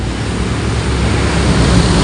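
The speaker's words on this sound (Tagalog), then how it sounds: "Nindot kay gahanggapan og hangin." Strong wind roars into the microphone at a canyon in Rizal as a loud, steady broadband rush, buffeting continuously without any voices.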